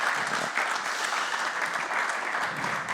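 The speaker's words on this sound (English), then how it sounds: "a round of applause, please, for Keith Pelley" An audience at a live golf podcast recording gives a round of applause, a full, even burst of many hands clapping that holds steady and close throughout, with faint voices underneath.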